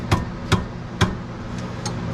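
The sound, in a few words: hammering brake parts off a C6 Corvette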